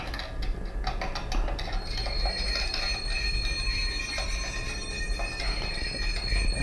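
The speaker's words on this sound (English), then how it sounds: "Sounds like it's running over something," Bachmann Branchline Class 419 MLV model train runs along its track with a quiet, steady crackling and scraping, small irregular pops like bubble wrap over a low running hum.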